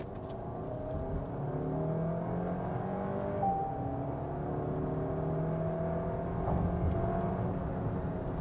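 A Skoda Kodiaq accelerates hard in sports mode, its engine note rising steadily through several climbing tones with gear changes, heard from inside the car at a steady moderate level with no talking.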